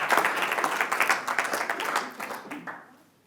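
Conference audience applause, dense clapping from a crowd that holds steady and then fades away over the final second.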